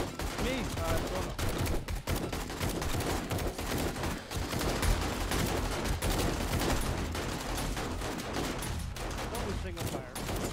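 Dense, continuous gunfire crackles and rattles throughout, loud and busy, from a high power rifle in the zombie survival video game 7 Days To Die, with a voice audible underneath.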